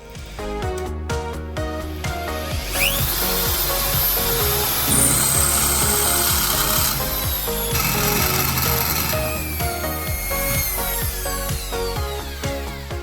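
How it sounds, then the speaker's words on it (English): A power drill bores screw holes into a metal case panel while fitting a Mean Well RD-50A power supply into an Atari Mega ST, whining steadily at close range in several sustained bursts as the bit cuts through, with no talking. "Then we can drill the holes."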